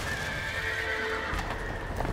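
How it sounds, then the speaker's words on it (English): Video game horses in a barn whinny loudly, with a high drawn-out neigh up close and hooves clopping, under a faint background hum. "Oh, hell, the horses are escaping"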